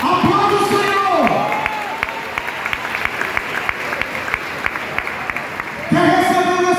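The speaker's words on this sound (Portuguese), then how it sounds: "Aplaude o Senhor." A church congregation applauding together, a sustained wash of clapping with a few cheers and whoops, starting under a preacher's loud voice and fading back as he speaks again.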